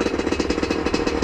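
A motorcycle engine idles with a fast, even, rattling pulse, close and loud, running steadily to warm up with no talking.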